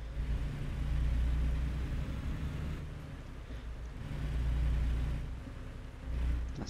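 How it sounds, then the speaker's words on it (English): A truck in American Truck Simulator pulls a long road train up to speed on an eastern Oregon road, its engine a low droning rumble that rises and falls in two broad surges, steady and fairly close, with no talk. "Come on, truck up to speed."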